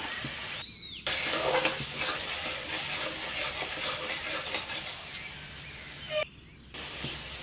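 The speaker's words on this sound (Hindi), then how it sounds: "मसला को भल से कषि नेबी। मसला तेल छाड़ा जाए मसला को कषि नेबी।" Ground masala with turmeric, Kashmiri red chili and salt sizzles in hot oil for a fish curry, stirred with steady scraping over a continuous frying hiss, close up with brief pauses.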